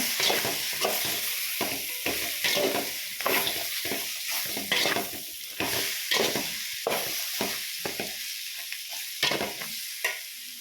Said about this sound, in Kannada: ಸ್ವಲ್ಪ ಮುಂಚೆನೇ ತೊಳೆದು ಎತ್ತಿಟ್ಟಿರೋ ಇಂಥ ಪುದೀನ ಸೊಪ್ಪು ಹಾಕಿ ಸ್ವಲ್ಪ ಸುಮ್ಮನೆ ಸ್ಟೀಮಲ್ಲಿ ಬಾಡ್ಸೋಣ.